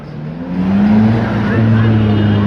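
Evening road traffic with cars passing, a loud close engine drone and steady hum filling the whole stretch, with a voice partly mixed in.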